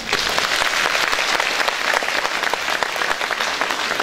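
An audience at an awards ceremony for the workforce of the Pobuzhsky Ferronickel Plant gives steady, dense applause throughout, close and loud, with no voices on top.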